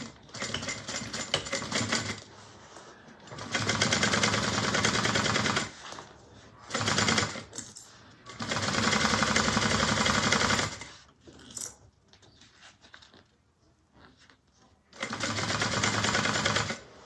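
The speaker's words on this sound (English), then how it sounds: "to sew this on at 3/8" seam allowance" A sewing machine stitches a bag seam in loud rapid bursts of several seconds each, stopping and restarting for back stitching, with quieter handling noises between runs.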